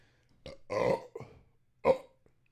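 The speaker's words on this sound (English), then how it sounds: "Burp life." A man burps during a beer tasting, with several deep, guttural bursts broken by short pauses, close to the microphone and with no speech.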